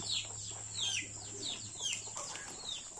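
Chickens clucking in a small backyard coop area, repeated short calls close by over a steady hum and occasional wing flaps.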